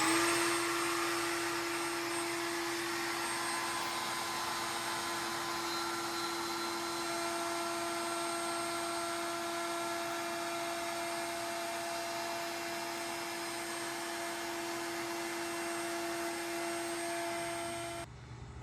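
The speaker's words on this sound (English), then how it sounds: "So now we are going to round over, round off, round out with the router table." Router table rounding over the edges of wood for a one-step stool, a steady loud high-pitched motor whine with a strong hum that runs continuously, then cuts off at the very end.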